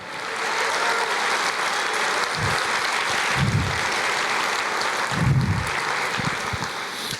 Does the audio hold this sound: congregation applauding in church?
yes